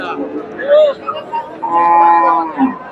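Friesian heifers moo close by in several drawn-out lowing calls, with faint background murmur of a crowded cattle market at Dhaper Hat, Bogura.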